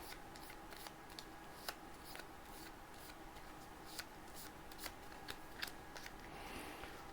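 Marvel United board game cards are shuffled by hand in a quiet room, giving a run of soft riffling and sharp flicking snaps at an irregular rhythm, close and fairly faint.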